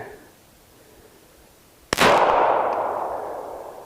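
A Glock 42 pistol fires a single .380 ACP round at a steel plate target: one sharp, close report cracks out after a quiet stretch, then a long, slowly fading echo follows.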